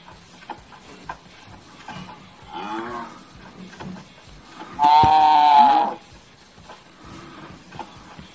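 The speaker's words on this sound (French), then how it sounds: "Venez là, les petites vaches." Cows mooing in Minecraft as they are lured into a pen, a faint low moo early on and then one loud, drawn-out moo lasting about a second, with no talk over them.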